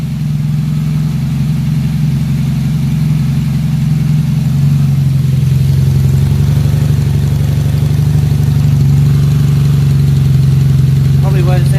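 Cold V4 motorcycle engine idling close by, with a loud, steady low rumble that holds an even pulse throughout.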